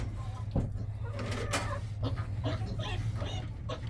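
Farm chickens cluck and call softly in a quiet barnyard, with scattered short bursts over a low steady hum, faint and somewhat distant.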